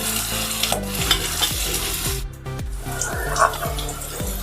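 Onions frying in a pan for a spicy prawn dish, with a steady sizzle and repeated scraping strokes of a spoon stirring them, close and fairly loud, no talking.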